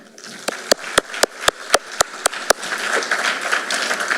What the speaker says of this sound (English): a round of applause for our acting principal, Ms. Melanie Martin.